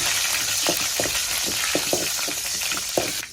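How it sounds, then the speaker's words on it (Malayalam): Mustard seeds and asafoetida fry in hot oil for a Kollam-style clam thoran, a steady close sizzle broken by scattered sharp pops and crackles throughout. "നമ്മൾ കടുക് വറുക്കുന്നതിൻ്റെ കൂടെ കായം കൂടി ഇടണം"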